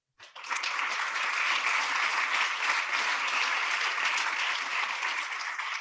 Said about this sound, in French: j'ai plein d'applaudissements